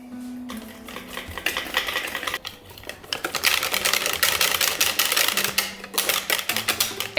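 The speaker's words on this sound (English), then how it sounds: "take a little bit of milk and a little bit of flour and whisk it in till you are done" A whisk beats waffle batter of milk and flour in a bowl, giving fast, rhythmic clicking strokes that start hesitantly and then settle into a steady, energetic run, close and alone.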